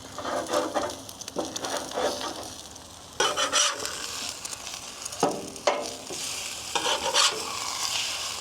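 Eggs fry on a Blackstone griddle outdoors by a bus. The sizzle runs steadily throughout, with scraping and stirring strokes over it and bursts of louder spatula scraping.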